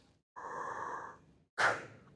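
A human voice imitates a sleep apnea machine's breathing and snoring, with a long hissing, rasping inhale, a pause, then a sharp loud breathy exhale, close and alone.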